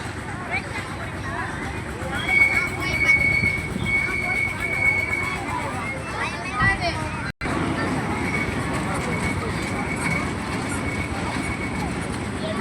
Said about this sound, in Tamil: ரவுண்ட் அடிக்குது பாருங்க ட்ரெயின்.